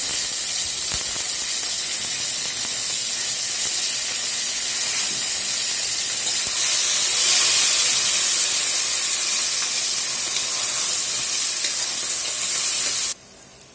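Vegetables with curry leaves, tomato and finely grated potato fry in oil in a loud, continuous hissing sizzle that swells slightly midway and then cuts off abruptly near the end.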